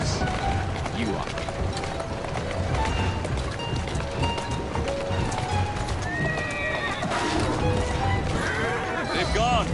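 Galloping horse hooves clip-clopping with loud neighing whinnies in Assassin's Creed Syndicate, set among carriage rumble and game action noise, with voices talking over it.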